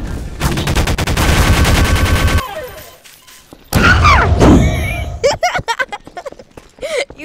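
Gunfire in the video game Garry's Mod: a sustained rapid burst of automatic fire, then a pause and a few more scattered loud shots, with players talking between them.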